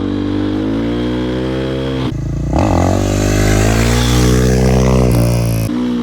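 A motorcycle engine climbs through its revs with steady harmonic whine, cuts off sharply on clutch shifts, then surges again, loud and close while chasing a clutch-up wheelie.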